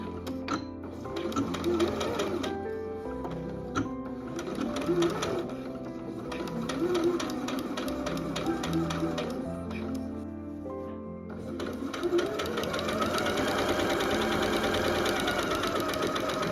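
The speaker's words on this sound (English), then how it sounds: "also pin the yoke pieces together and sew them as well." A sewing machine runs continuously while sewing the yoke pieces of a vintage Vogue pattern dress, a close, even stitching rattle with brief lulls and restarts throughout.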